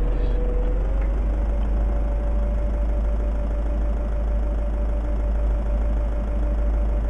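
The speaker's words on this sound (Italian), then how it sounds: "ogni volta è il rumore del motore al minimo" A Fiat Ducato van engine idles continuously in Euro Truck Simulator 2 with a low, even rumble and a faint tonal hum, no change in pace throughout.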